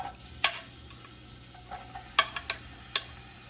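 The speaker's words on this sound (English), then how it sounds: "I'm gonna start by adding the shallots and onions" Shallots and onions go into a hot pan, giving a soft, low sizzle punctuated by several sharp clicks and taps of utensils against the pan.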